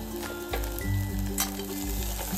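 Raisins go into a pan of thick makhana and bottle gourd halwa, giving a close, steady sizzle with soft stirring thuds and a brief clink, no voices.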